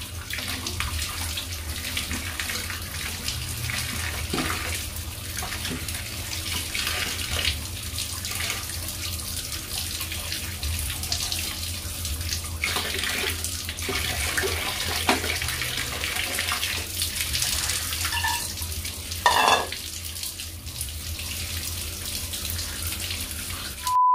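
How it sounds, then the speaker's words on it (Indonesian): A kitchen tap runs steadily while chili peppers and limes are rinsed under it, a continuous close splashing flow with occasional louder splashes and knocks, no talking. "sekarang kita cuci cabai sama jeruk nipisnya ya biar bersih"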